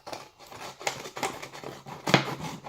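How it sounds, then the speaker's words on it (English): Scissors snip all the way around a slit cut in a plastic bottle for a homemade minnow trap, giving a series of crisp, close cutting crunches with short pauses between them. "take my scissors, put it in here, and I'm going to cut all the way around"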